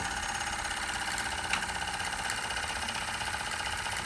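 A Wilesco D305 toy steam fire engine winds down after shutdown, a fast, even mechanical chuffing and ticking heard up close, with a faint knock or two.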